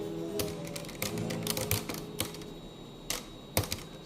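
Keys clatter in uneven bursts of typing on a keyboard, close up and crisp, with short pauses between strokes and no talking.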